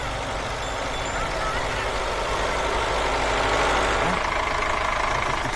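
A tractor engine idles with a steady low rumble throughout, while people talk nearby over the running motor.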